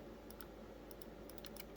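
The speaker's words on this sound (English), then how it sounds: "you click a mouse, makes that little noise, little actuation" Light clicks from the buttons of a gaming controller built for real-time strategy play, sharp and mouse-like, come in small irregular clusters close up over a steady low hum.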